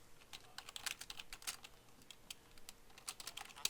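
Rapid, irregular clacking of fingers typing on a computer keyboard, close and clear, with bursts of keystrokes and short pauses and no voices.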